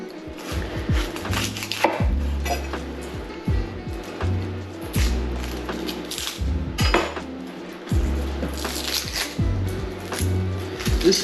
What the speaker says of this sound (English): First thing we're gonna do is dice up this onion.